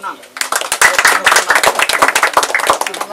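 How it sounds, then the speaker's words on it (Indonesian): Hands clapping repeatedly in a lively, uneven rhythm at a Ramadan food-parcel handout, close and loud, with people talking over it throughout. "Tepuk tangan."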